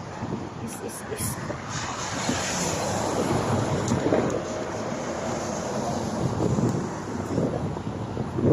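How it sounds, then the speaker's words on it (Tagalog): Hot, steady wind gusts across the microphone outdoors, making a continuous broadband roar that swells slightly and keeps going throughout. "Mahangin, pero yung init ng hangin mainit."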